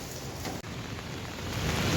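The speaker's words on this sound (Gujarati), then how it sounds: "વરસાદ તો જો મસ્ત પડી રહ્યો છે ઝરમર ઝરમર ઝરમર" Light drizzling rain falls steadily outdoors, a soft continuous hiss of drops on surfaces that holds even and close throughout, briefly dipping once, with no voices.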